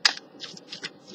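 Tarot cards are shuffled in several quick riffling bursts, crisp and close, with short pauses between them and no voices.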